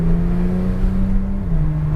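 A race car on the Austin track pulls out of a turn under light throttle, its engine droning steadily close by with a slight pitch drop midway, no voices over it.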